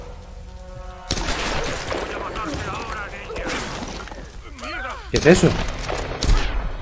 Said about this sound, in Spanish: Va a usar la ametralladora.